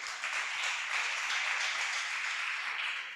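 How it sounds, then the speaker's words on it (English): Sustained audience applause and clapping for Madame Nuriat Nambogo at an entrepreneurship bootcamp at Ruharo Vocational Training, a dense, even patter of many hands that holds steady and close for the whole stretch without pause. "Let's clap for Madame Nuriat Nambogo."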